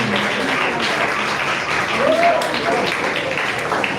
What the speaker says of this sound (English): A round of applause for Engineer Kenneth Okeke.